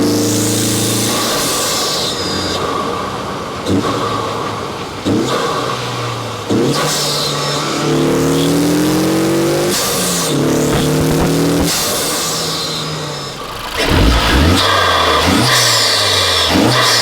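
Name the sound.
Honda Civic Type-R FL5 turbo engine revving with Armaspeed intake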